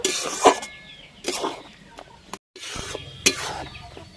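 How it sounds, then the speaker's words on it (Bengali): A spatula stirs boiled green mangoes in a pot, giving a few separate scraping, squelching strokes with quiet pauses between them. "খুন্তি দিয়ে এইভাবে একটু ঘেঁটে দেব"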